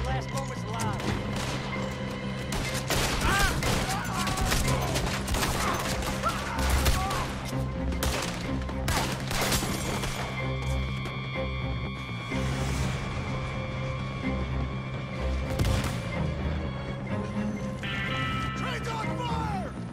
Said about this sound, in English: Ta brokovnice je ten miláček.